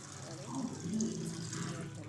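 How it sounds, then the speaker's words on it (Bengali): Water is poured into a pan of chicken curry, a short, soft splashing gush heard faintly and close, with a little background murmur. "আর আমি জল ঢেলে দিলাম"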